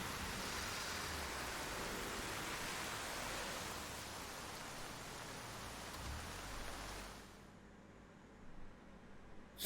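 Steady heavy rain falls outdoors in a TV drama scene, a dense, loud hiss that holds evenly for about seven seconds before abruptly dropping away to a quieter background.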